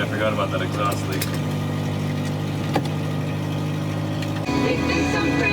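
A Volvo 240 with an exhaust leak idles with a steady, loud, close engine drone, briefly shifting tone near the end while someone speaks over it.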